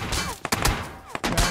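Rapid video-game gunfire crackles in loud bursts, with several sharp shots in quick succession, a pause, then another volley, close and dense against game background noise.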